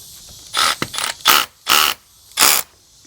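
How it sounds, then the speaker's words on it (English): A power drill bores into red brick in four short, loud bursts separated by brief pauses, each a harsh grinding whir close to the listener. "Let's drill the first hole."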